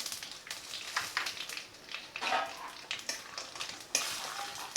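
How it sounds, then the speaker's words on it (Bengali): Peanuts being fried in oil in a pan for a methi paneer dish, with a light sizzle under intermittent stirring and metal utensil scrapes, close and fairly quiet, no speech. "একটু বাদামটাও ভেজে নেব।"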